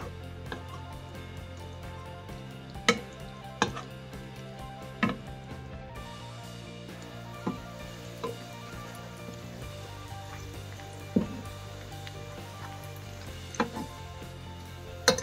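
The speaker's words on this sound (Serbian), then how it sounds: "I pržimo dok ne porumeni." Ravioli frying in butter and oil in a pan over medium heat, a faint, steady sizzle with occasional sharp pops and ticks scattered throughout, no talking.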